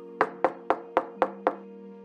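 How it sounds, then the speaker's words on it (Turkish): Six evenly spaced, crisp knocks on a door sound in a cartoon fairy tale, each sharp and moderately close over a soft sustained background tone, then the rapping stops. "Tam o sırada kapı çalmış."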